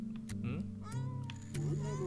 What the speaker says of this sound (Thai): แมวชื่อฮัมกุดครับ